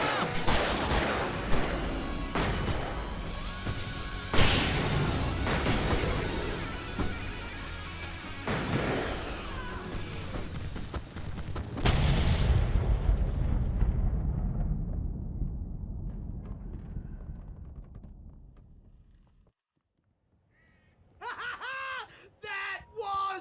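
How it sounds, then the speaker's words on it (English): Fireworks bursts in Alan Wake Remastered boom and crack repeatedly over dense game action for about twelve seconds, then fade away to near silence before a short tonal game sound at the end. "I can set off more of the fireworks from here and help them out!"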